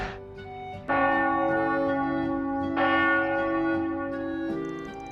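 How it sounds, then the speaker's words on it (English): A church bell tolls the one o'clock hour in the video game Trails Beyond the Horizon, three resonant strikes with long ringing decays layered over each other, loud and full against soft background ambience. "the 1 o'clock bell"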